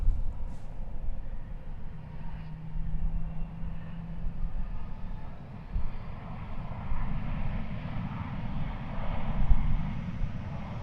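Airliner taking off from runway 36 right at DFW Airport, a steady broadband jet roar that holds loud throughout without clear peaks, with no voices over it.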